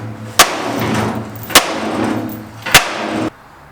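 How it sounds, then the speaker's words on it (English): Three sharp metallic hammer strikes on a piece of pipe against the steel side of a trailer, spaced about a second apart, each ringing out loud over a steady low background hum. "a couple taps with a hammer and a piece of pipe and some chain"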